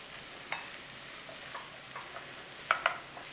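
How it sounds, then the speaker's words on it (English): Onions cook lightly in butter in a pan, giving a soft, faint, steady sizzle with occasional light taps and stirring clicks close by. "we're just going to cook those onions lightly"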